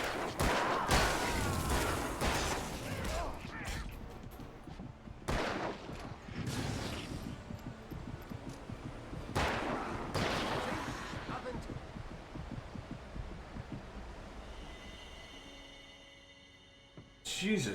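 Gunfire in the video game Alan Wake, bursts of loud broadband shots spread through the clip, interleaved with game sound and a voice talking over the action.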